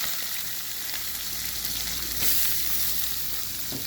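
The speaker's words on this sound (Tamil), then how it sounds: "எண்ணெய் காஞ்சிட்டு கடுகு சேர்த்துருக்காங்க, கருவேப்பிலை, வெங்காயம் சேர்த்துருக்காங்க." Mustard seeds, curry leaves and chopped onion fry in hot oil for a cabbage stir-fry, a dense continuous sizzle with crackling and stirring, close and alone.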